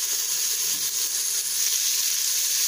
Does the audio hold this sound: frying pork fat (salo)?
yes